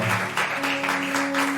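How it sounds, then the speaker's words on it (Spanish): A church congregation breaks into loud applause during a service, a brief, full burst of many hands clapping together, with a voice sounding over it. "¿Cuánto le dan un fuerte aplauso?"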